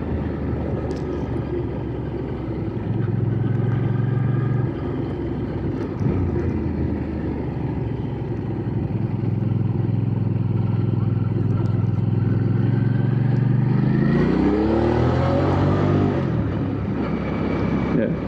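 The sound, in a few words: motorcycle engine with stock exhaust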